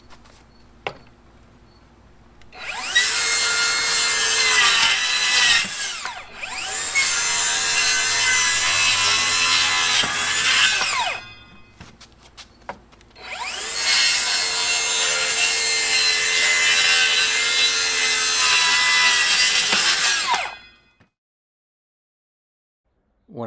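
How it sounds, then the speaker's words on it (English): A wooden board is sawn into stripes for a wooden American flag, with three long, loud stretches of steady sawing broken by short pauses, then quiet at the end. "I'll take this remaining board and I'll continue on cutting my stripes."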